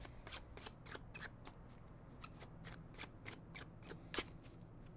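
Tarot cards are shuffled in quick, crisp riffling bursts, a rapid series of soft flicks and snaps close by and fairly quiet.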